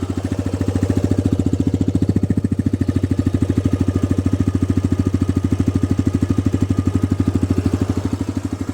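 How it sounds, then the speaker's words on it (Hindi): A TVS Raider 125 motorcycle idles close by, its engine putting out a steady, rapid even thumping that holds constant for several seconds with no voices. "ये आइडल साउंड है बाइक का।"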